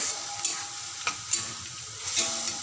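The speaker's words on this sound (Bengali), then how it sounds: "এবার দিয়ে দেবো বেটে রাখা মশলাটা আর মিক্সারে বাটি ধোয়া জলটা দিয়ে মশলাটা কষে নেবো" Ground spice paste sizzles steadily in hot oil in a pan for soybean dalna, with a few sharp scrapes and knocks as it is stirred, close and fairly loud with no voices.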